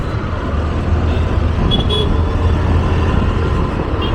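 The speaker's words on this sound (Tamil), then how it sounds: "காலையில் பத்து மணிக்கு இந்த டிராஃபிக்" Heavy mid-morning road traffic in Chennai with many government buses, a dense, loud, constant roar of engines with a few short car horn toots breaking through.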